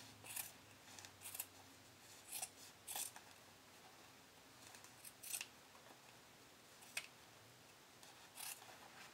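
Scissors snip through bikini fabric along a seam as it is trimmed, the blades closing in quiet, repeated crisp cuts at an uneven pace, close and soft with no talk.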